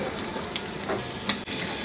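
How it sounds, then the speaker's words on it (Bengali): Onion and sliced capsicum fry in a pan with a steady close sizzle, broken by a few light scrapes and knocks of stirring. "এর মধ্যে আমি অর্ধেকটা ক্যাপসিকাম কেটে রাখছি ওগুলা দিব, দিয়ে এর সাথে মিনিট খানেক ভেজে নিব"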